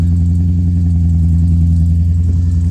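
A BMW E30 fitted with an S62 engine idles roughly after a jump start, having sat unused for about three months. It gives a deep, loud, continuous rumble close by with no talking.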